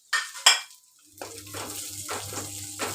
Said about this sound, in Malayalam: നല്ലപോലെ ബ്രൗൺ കളർ ആവുന്നത് വരെയും വഴറ്റുക.